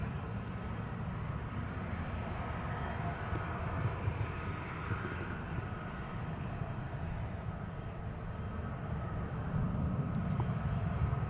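A Delta airliner departing Minneapolis–St. Paul for Paris rumbles as a distant, steady jet engine roar that builds slightly near the end, with faint talk in the background.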